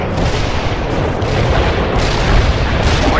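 Artillery barrage in the war game World in Conflict: a dense, continuous rumble of heavy booms and blasts rolling over one another, loud and without a break for the whole stretch.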